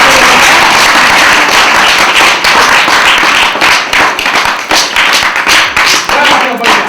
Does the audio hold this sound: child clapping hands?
yes